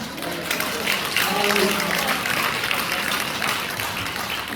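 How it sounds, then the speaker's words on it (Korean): A congregation at a pastors' seminar claps together in a dense, steady burst of applause that holds throughout without pause. "박수까지 쳐주시니까 제가 몸둘 바를 모르겠어요."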